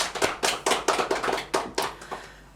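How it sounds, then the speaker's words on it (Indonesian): A small group claps by hand for a guest being welcomed onto an Indonesian podcast: a brief burst of sharp, close claps, roughly a dozen distinct hits over two seconds, fading out at the end. "Tepuk tangan."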